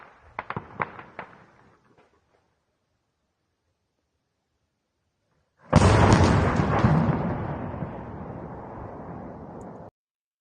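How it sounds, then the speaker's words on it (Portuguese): A strike in Russia sets off explosions: a few sharp cracks and pops at first, then after a pause a huge blast erupts into a long loud roaring rumble that cuts off abruptly. "Uma explosão muito grande"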